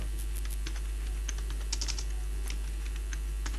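Code being typed on a computer keyboard, quick irregular clicks of keys in short bursts over a faint steady background hum, close and fairly soft with no voices.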